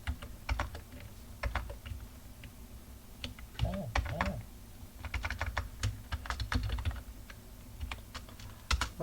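Quiet clicks of typing on a computer keyboard come in uneven bursts of keystrokes with short pauses, close and faint, with brief voice-like sounds in between.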